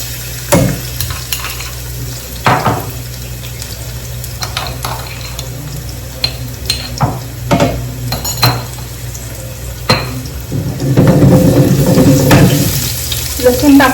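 Garlic drops into a pan for a wild-vegetable curry, sizzling under frequent clatters and scrapes of a utensil against the pan, then swelling into a louder, fuller frying burst near the end.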